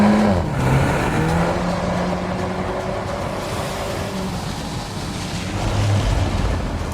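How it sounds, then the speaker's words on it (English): A 2021 Volkswagen Golf R drifts in drift mode on a non-public road with torque vectoring, its engine a steady close roar with tyre and wind noise, and a slight swell toward the end. "The drift mode provides a lot of fun and allows the car to drift through torque vectoring."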